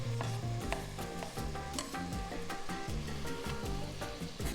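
Half a tomato sizzles in a pan with paprika and onions for traditional Hungarian goulash, a dense, steady crackling fry with stirring scrapes throughout, close and without speech.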